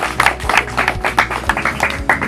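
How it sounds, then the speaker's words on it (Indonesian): An audience gives lively applause at a formal tourism event in North Lombok, with a dense, steady patter of many hands clapping up close. "saya minta tepuk tangannya yang sangat meriah"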